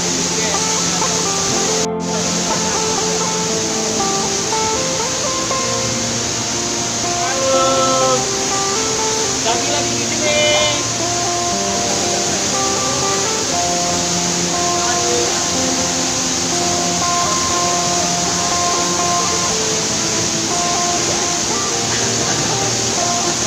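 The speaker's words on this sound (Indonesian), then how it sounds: "Ini adalah air terjun Tambang Murai yang berada di kawasan Danau PLTA Kota Panjang." Tambang Murai waterfall at the Koto Panjang hydropower lake produces a steady, broad rush of falling water that fills the whole stretch, with faint voices and music-like tones mixed in underneath.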